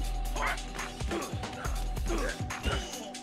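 Dogs bark in short, repeated yips over a steady droning game soundtrack in Bomb Rush Cyberfunk, several barks spaced through the moment at mid distance.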